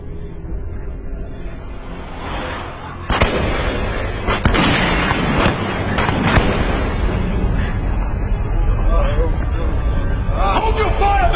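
Cannon and gunfire crack and boom in a Peter Pan action movie scene: a loud blast about a third of the way in, then dense rumbling fire and debris mixed with shouting voices and talk.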